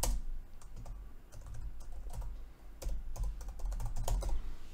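Rapid keyboard typing, clustered key clicks and a few sharper keystrokes in quick bursts, close by with no talking.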